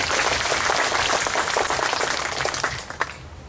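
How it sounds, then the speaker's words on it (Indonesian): An audience at an Indonesian official ceremony applauds for Indonesian diversity, a dense wash of many hands clapping that carries on loudly and fades near the end. "Tepuk tangan untuk keragaman Indonesia"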